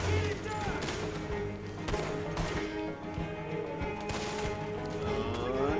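Sharp gunshots in a Red Dead Old West game pop at irregular intervals against music and ambient game sound, with people talking throughout.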